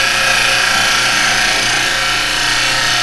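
A carbide chisel cuts a wooden bowl spinning on a lathe, making a continuous loud, even scraping hiss at close range with no talk.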